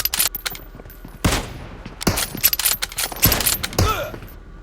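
Gunfire in PUBG Mobile, apparently from a Kar98k bolt-action rifle: several sharp, loud shots spaced irregularly across the clip, each with a quick decaying tail, with no voices.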